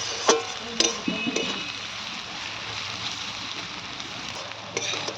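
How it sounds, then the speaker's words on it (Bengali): Onions frying in oil in a kadai, browned for a chicken dish, give a steady close sizzle with a few sharp crackles and stirring scrapes near the start and end. "পেঁয়াজটা পুরো ব্রেস্তার মতন করে ভেজে নিতে হবে"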